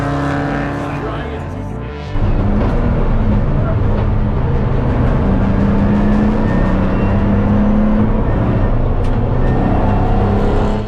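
Race car engines drone loudly and continuously on track during an 8-hour endurance race, one car shifting up sharply early on before a steady, sustained roar takes over, with talking layered on top.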